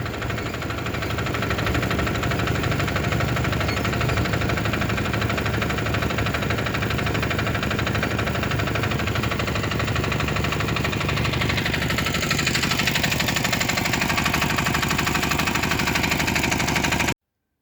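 A farm machinery engine idles before sowing, running as a loud, continuous mid-pitched rumble with a steady vibrating drone and no pauses.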